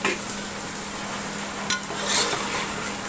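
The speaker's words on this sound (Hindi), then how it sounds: "अच्छी तरह से इसे मिक्स करके भून लें।" Mutton and potatoes stirred and fried with spices in a pan for a biryani, a steady low sizzle with a sharp scrape of the spoon partway through, close and alone.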